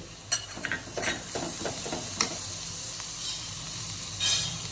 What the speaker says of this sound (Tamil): இது லேசாக வதங்கட்டும் வெங்காயம் லேசாக வதங்கிருச்சு